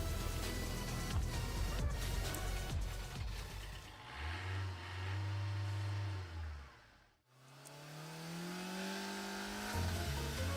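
A car engine revs in the video game Path to Nowhere, rising to a sustained mid-pitched drone, cutting out briefly, then climbing again over a busy game soundtrack.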